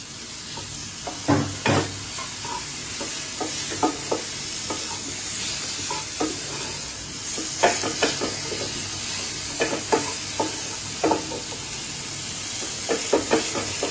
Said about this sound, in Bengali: এই পর্যায়ে আমি এখন চিকেনগুলোকে অ্যাড করে দিচ্ছি।